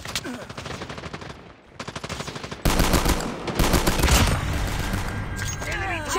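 An HS2126 burst-fire shotgun fires in a video game, loud rapid bursts of blasts in quick succession, followed by denser continuous gunfire and game effects.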